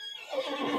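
A horse neighs in the Lord of the Rings Online video game, a single close, loud whinny that rises and holds for under a second.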